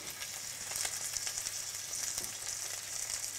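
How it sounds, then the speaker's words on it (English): Lamb frying in a pan with long peppercorn and cumin, giving a steady, even sizzle with soft crackles that carries on alone throughout. "The lamb is cooking nicely."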